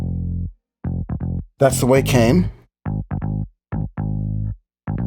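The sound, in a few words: unprocessed bass track in a mix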